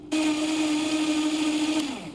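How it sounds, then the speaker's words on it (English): A blender runs at slow speed with a steady, even motor whine for about two seconds, close and alone, then winds down. "Start the blender on slow."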